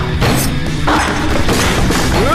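A drum set being smashed: loud, dense crashing and thumping hits fill the whole short burst with little pause, close and forceful.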